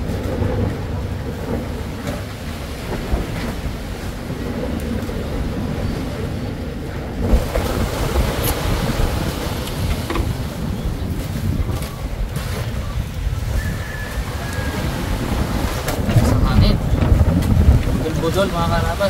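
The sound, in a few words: strong wind at sea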